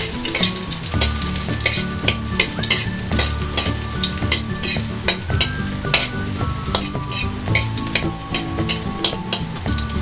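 Minced garlic sizzles steadily in hot oil in a pan as the base for a chicken and broccoli stir fry, a loud, dense crackle throughout with occasional scraping stirs.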